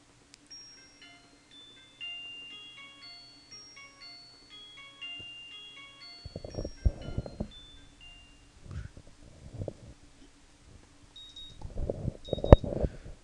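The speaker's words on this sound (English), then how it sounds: "The sound of my alarm brings me out of the dream involving pirates and some other stuff I can't really remember" An alarm clock in the visual novel Katawa Shoujo rings as a steady run of bright electronic beeps, loud and close, and then clattery noises and bursts of sound cut in over it.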